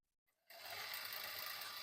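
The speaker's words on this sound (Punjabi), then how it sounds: "ਇਹਦੇ ਕਾਰਨਰ ਤੋਂ ਸਲਾਈ ਲਗਾਉਣੀ ਸ਼ੁਰੂ ਕਰੋ" A sewing machine starts up stitching the plates of a suit, jumping from near silence into a steady, fast mechanical whir that stays even and close, with no talk.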